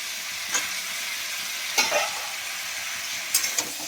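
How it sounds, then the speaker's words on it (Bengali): Green beans and carrot stir-fry in a pan, a constant loud sizzle broken by a few sharp scrapes and clinks of the spatula, with no voices. "আমি শিমটাকে ভালো করে নেড়ে নিই। এর মধ্যে গাজরটাও দিয়ে দেবো"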